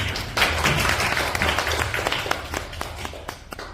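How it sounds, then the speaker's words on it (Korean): Steady audience applause at a poetry recitation concert in Uijeongbu, dense clapping that thins into scattered individual claps toward the end, with low background hum. "낭송하시는 주인공들에게 따뜻한 박수를 보내주시면 감사하겠습니다"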